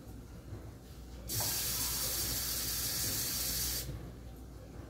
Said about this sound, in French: j'ai rempli une tasse d'eau au lavabo